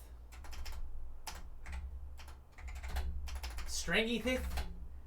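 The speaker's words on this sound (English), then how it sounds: "All this typing is kind of ASMR. Yeah. This is actually an antique keyboard that I'm using." Clicky keystrokes from an antique computer keyboard come in bursts and rapid runs of typing, fairly close, with a low steady hum beneath and a short voice near the end.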